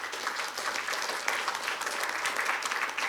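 An audience at a parallel session on inclusive evaluation breaks into a round of applause, a dense, steady wash of clapping that holds for the full three seconds with no voices over it.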